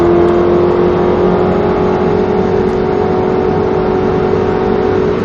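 A high-performance car's engine winds out under hard acceleration on a racetrack at Speed Vegas, a loud, sustained, steady engine tone running without a break and without speech.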